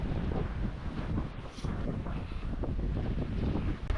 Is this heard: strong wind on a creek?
yes